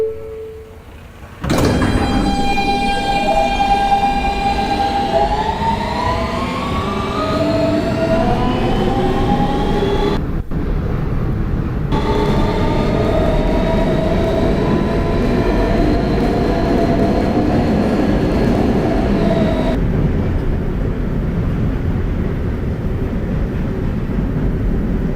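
A Kawasaki R160B Siemens R local subway train on a Brooklyn-bound run, loud and continuous, with motor whine rising in pitch as it accelerates, steady rumbling rail noise, and a brief drop midway before the roar resumes.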